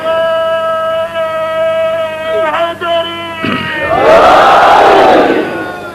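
Crowd at a Shia majlis gathering raising a loud collective slogan, building into a roaring, cheering chant that swells and holds near the end.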